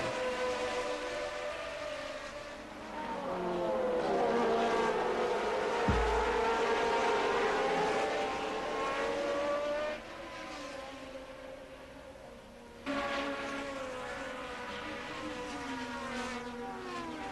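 A pack of 1981 Formula 1 turbo race cars roars away at the start, engine notes rising and sweeping in overlapping pitches. The sound is loud and continuous, shifts in level partway through, and has no talking.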